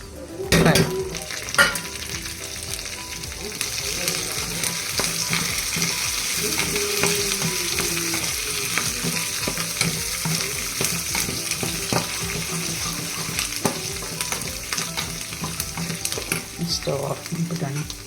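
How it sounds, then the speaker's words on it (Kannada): Curry leaves and one or two Byadgi chilies fry steadily in hot oil in a pan for tempering, with a continuous sizzle, occasional pops and faint stirring clatter. "ಈಗ ಅದಕ್ಕೆ ಸ್ವಲ್ಪ ಕರಿಬೇವು, 1-2 ಬ್ಯಾಡಗಿ ಮೆಣಸಿನ್ಕಾಯಿ ಹಾಕಿ ಫ್ರೈ."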